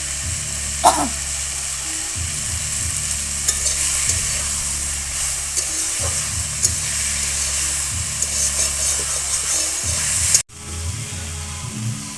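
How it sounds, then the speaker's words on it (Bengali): Water spinach (kolmi) greens fry and get stirred in a pan, giving a steady close sizzle with scraping stir strokes, a low tonal hum underneath, and an abrupt cut near the end. "কত সুন্দর হয়ে গেছে আমাদের স্বাদের কলমি শাক ভাজা"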